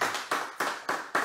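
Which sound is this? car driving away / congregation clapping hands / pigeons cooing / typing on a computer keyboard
congregation clapping hands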